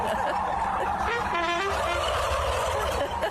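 A flock of turkeys gobbles together in loud, rippling bursts, calling in unison in response to a trumpet, with no talking.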